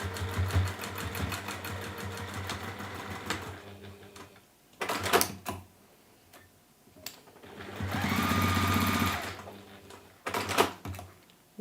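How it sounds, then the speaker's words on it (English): A sewing machine runs across the base of a bunny pouch, joining the lining and the outer fabric. It comes in several strong bursts with steady motor whirring and needle clatter and short pauses between runs. "we're going to sew across that base there"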